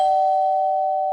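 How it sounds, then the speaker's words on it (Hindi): A doorbell rings at a hotel room door, a single loud electronic tone that holds steady and slowly fades. "डोरबेल फिर से बजी"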